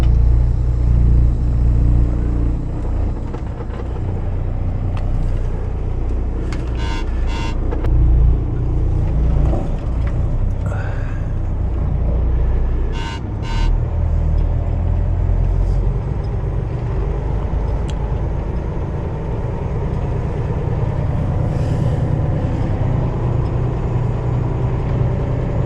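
A truck pulling a trailer rumbles along continuously, with a loud, steady low engine drone and road noise inside the cab, no talking.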